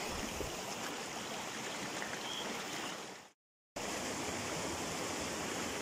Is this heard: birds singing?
no